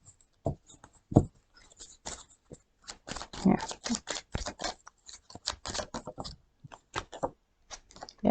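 Tarot cards being shuffled by hand, a long series of quick, close, irregular papery riffles and taps separated by brief pauses.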